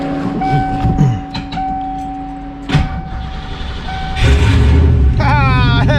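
An old engine fitted with an MSD ignition box fires up partway through, a loud low rumble taking over after a few seconds of tonal whine and scattered clanks.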